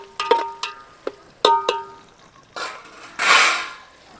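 A spoon stirs country chicken curry in a metal pot, giving a few sharp clinks and knocks against the rim followed by softer scraping and a thick, wet stirring swish, all close and without talk.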